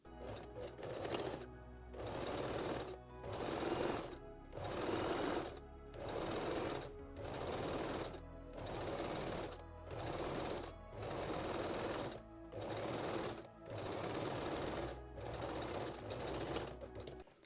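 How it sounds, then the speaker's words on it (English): A sewing machine zigzag-stitches elastic onto a bikini top, running in steady, close bursts of rapid mechanical clatter with brief pauses between runs. "I stitch the top first and then the bottom one. I'm using zigzag stitch and not stretching the elastic."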